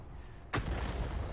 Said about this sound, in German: Schuss ist raus.